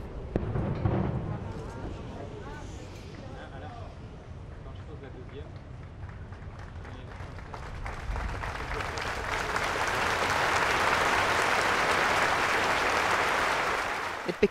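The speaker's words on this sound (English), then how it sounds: "It became a minute of applause." Thousands gathered on a promenade, after a single cannon round opens a minute's silence, break into applause that swells from a low murmur with a lone voice into a broad, sustained roar of clapping in the second half.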